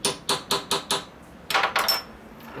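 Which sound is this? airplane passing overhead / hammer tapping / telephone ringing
hammer tapping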